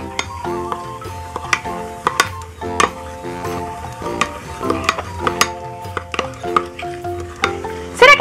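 Homemade Elsa Frozen slime mixture is stirred in a bowl, giving repeated sticky squelches and clicks in an uneven rhythm, fairly close and loud, with a tonal hum beneath.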